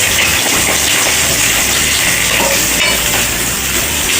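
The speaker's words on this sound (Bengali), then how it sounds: "এবার এই দিকটাও একটু ভাজা হতে সময় দিতে হবে।" Silver cup fish (pomfret) frying in hot oil in a pan, a steady, loud, dense sizzle and crackle that fills the whole stretch without letup, close up and with no voices.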